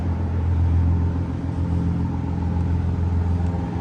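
A tuned BMW 540i M-Sport with a B58 engine idles with the hood open, running E85. It gives a steady, close, deep low rumble with a slightly lumpy pulse throughout.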